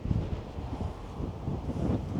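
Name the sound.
wind blowing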